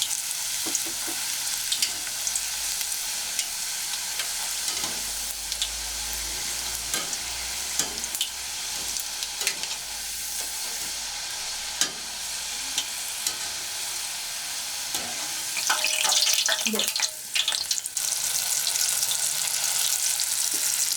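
Potato French fries sizzle in hot oil with a constant crackling hiss. It grows denser and louder toward the end as more pieces go into the pan, and no one speaks.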